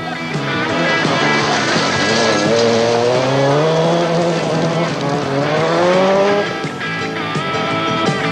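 Ford Sierra Cosworth rally car at the 1987 Monte Carlo Rally, drifting through snow: a loud, close engine note rising and falling steadily as it revs hard, with a long tire skid running through the pass and no voices.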